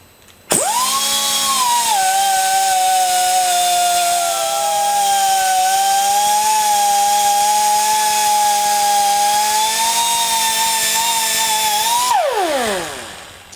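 A rotary power tool polishes the steel anvil die of an English wheel, starting with a sharp whine, holding a loud steady pitch with slight wavering for about eleven seconds, then spinning down.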